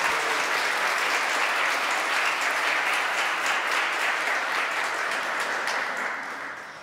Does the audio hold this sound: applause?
yes